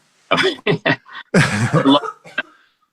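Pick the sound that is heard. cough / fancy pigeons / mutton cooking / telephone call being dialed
cough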